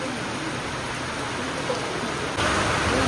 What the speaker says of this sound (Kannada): ನೋಡ್ರಿಪ್ಪ ಮಳೆ ಅಯ್ಯೋ ದೊಡ್ಡ ಮಳೆನ ಬಿಡ್ರಿ